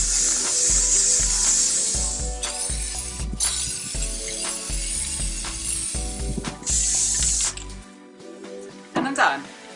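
Plastikote spray paint hisses from an aerosol can onto an old vase in a few short, close bursts separated by pauses, with a voice talking between and around the sprays.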